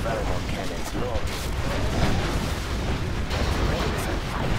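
Rumbling booms of Inferno cannon artillery fire in Command & Conquer: Generals Zero Hour roll on continuously, dense and loud, with a voice speaking partly over the barrage.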